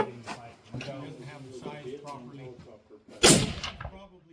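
A single sharp rifle shot from a Weatherby Mark V Accumark firing factory ammunition cracks loud and close on the range, following several seconds of people talking, with a short ringing tail after the blast.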